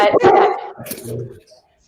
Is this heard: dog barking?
yes